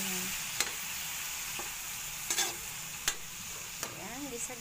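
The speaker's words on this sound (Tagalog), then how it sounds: "Gisa-gisa lang natin siya hanggang pumula yung hipon." Shrimp sautéed and stirred in a pan, a soft continuous sizzle broken by several sharp scrapes and knocks of a spoon or spatula against the metal, close and fairly quiet.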